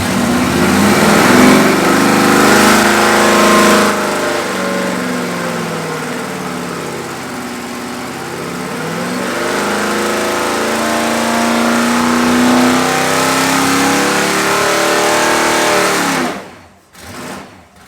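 A rebuilt big block LS6 454 V8 makes a baseline dyno pull to 5400 RPM, a loud steady roar that rises and falls in pitch for about sixteen seconds, then cuts off abruptly into near silence.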